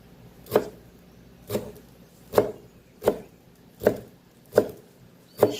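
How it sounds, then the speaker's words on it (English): Three shadow benny (culantro) leaves chopped on a cutting board: seven separate knife thuds at a slow, fairly even pace, close and crisp, with quiet gaps and no talk. "So I will finally chop 3 leaves of shadow benny."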